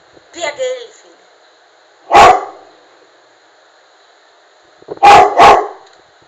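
A dog barks at a mirror in short bursts: a single bark, then a quick double bark, with a brief whine or yip at the start and silence between.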